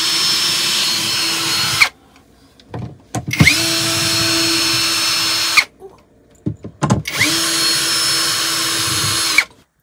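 A power tool saws through a wooden board inside a converted bus, three loud sustained whining runs close by, each stopping abruptly, with short quiet gaps and small knocks between them.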